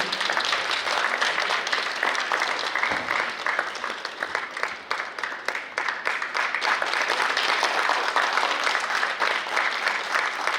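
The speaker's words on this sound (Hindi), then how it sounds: "जोरदार तालियां आप सभी की।" Audience members at a cultural festival honouring ceremony applaud steadily, a continuous moderate patter of many hands with no voices standing out.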